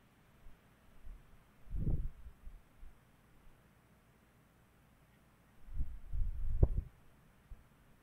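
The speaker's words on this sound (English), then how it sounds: "I hear heartbeats." Heartbeat effect in a horror video game map: soft, low thumping pulses in two clusters, a pair early and a longer run near the end, faint and muffled over a quiet hiss.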